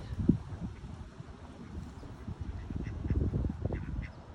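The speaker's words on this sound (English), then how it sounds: "And the ducks are talking to each other." Ducks quacking at a park, several short quacks scattered close by over light wind, with one sharper call near the start and a busier cluster toward the end, no talking.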